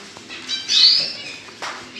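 Several birds in a screened breeding aviary give short chirps and one brighter, longer whistled call, fairly close and moderate in level, over a quiet room background.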